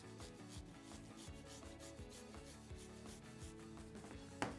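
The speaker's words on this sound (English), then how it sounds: "and now let's grate some garlic" Garlic rasped back and forth on a grater into a paste, a soft close rhythmic scraping with steady repeated strokes and a small clack at the end.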